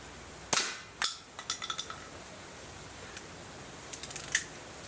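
An SS2 air rifle, a Feinwerkbau 65 clone, fires at shotgun shell targets: two sharp close snaps followed by quick mechanical clicks and rattles, with another crisp click near the end, no speech.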